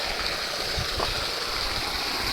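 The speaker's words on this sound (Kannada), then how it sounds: "ಈ ಥರ ನೀರು ಆಚೆ ಬಿಡ್ಬೇಕು, ಔಟ್ ಮಾಡಬೇಕು" Water drains and gushes out of a sand filter during cleaning, a constant close rushing wash with no pauses.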